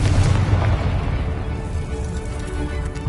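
A Confringo spell blast in Hogwarts Legacy makes a loud, deep booming explosion with a rumbling tail that lingers for a few seconds.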